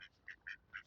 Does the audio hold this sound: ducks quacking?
yes